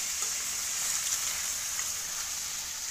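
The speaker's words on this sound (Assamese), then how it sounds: "এতিয়া ভাজিব লাগিব" Food frying in plenty of hot oil for a Bhogali Bihu Uruka feast sizzles in a steady, dense hiss that holds evenly throughout at close range.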